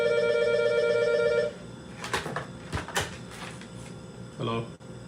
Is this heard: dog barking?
no